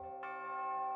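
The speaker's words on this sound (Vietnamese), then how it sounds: "là tiếng gõ chuông thường nghe thấy trong các buổi lễ của Phật gia" A single ceremonial Buddhist bell is struck, giving a clear metallic ring with a bright onset that sustains evenly, isolated and fairly quiet.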